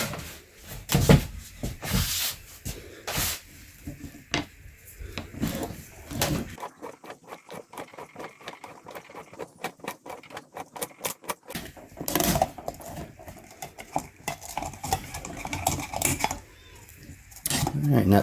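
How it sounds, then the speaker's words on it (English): A used Kohler 52-050-02 oil filter being cut open on a lawn tractor workbench, a rapid run of close metallic clicks and rasps from the cutting tool, with clanks and handling noises before and after. "Alright, let's open this filter up."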